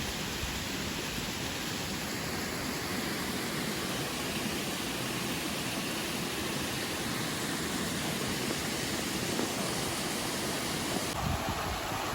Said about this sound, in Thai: น้ำก็ค่อยๆไหลลงมานะครับ